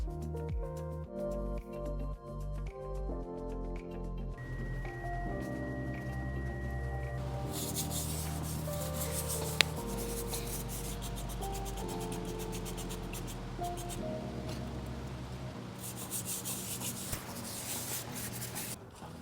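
Cloth and a magic eraser rubbing and buffing the surfaces of a warehouse forklift, close, repeated scrubbing strokes over a continuous background hum, no speech.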